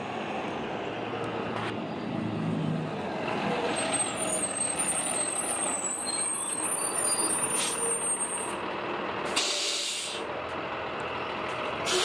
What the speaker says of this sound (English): here comes your bus around the corner